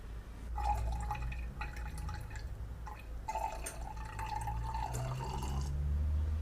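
Water is poured into a measuring container for a petrol ethanol test, trickling and dripping in short, quiet bursts with small splashy plinks against a low background hum.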